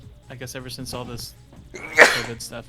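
A sneeze bursts out near the middle of casual conversation, a single sharp, loud blast standing above the ongoing talk before speech resumes.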